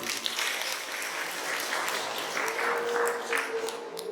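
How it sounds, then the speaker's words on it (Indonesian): Villagers at a community meeting in Bandar Rejo applaud together, a steady wash of many hands clapping at moderate distance that holds evenly throughout. "Tepuk tangan untuk masyarakat"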